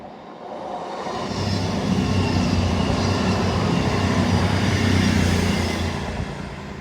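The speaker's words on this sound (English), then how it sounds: "Hello, train." A train passes through Teignmouth, rumbling louder as it draws near, holding a steady roar, then fading slightly as it moves away.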